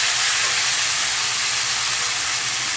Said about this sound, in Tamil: இப்போ இதில் இந்த தக்காளியை சேர்த்து தக்காளியும் கொஞ்சம் நல்லா வந்து சுருள வதங்கணும் முருங்கைக்காயோடு சேர்ந்து.